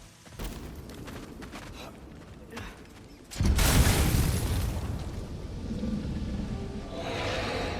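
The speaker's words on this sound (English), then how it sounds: "Tremors. From the earth." Deep rumbling earth tremors in the video game God of War Ragnarök, a low boom that surges suddenly partway through and keeps rolling loudly over faint creaks and mechanical rattles.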